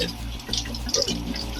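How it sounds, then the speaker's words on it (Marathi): Water from a running tap splashes and gurgles over a large fish being rinsed under it, close and fairly loud, with faint voice-like sounds mixed in. "आणि मासा असा स्वच्छ पाण्याखाली धुवून घ्यायचा"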